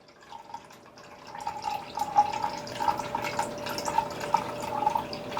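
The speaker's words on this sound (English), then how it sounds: "So I'm going to pour 8 ounces of this here in my silicone measuring cup" Au jus being poured into a silicone measuring cup, a close trickling, splashing stream of liquid that grows fuller and burbles steadily as the cup fills, with no talking.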